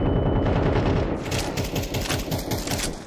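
Rapid automatic gunfire in Counter-Strike 2, a dense close burst of shots rattling through the whole stretch, loud with no talk over it.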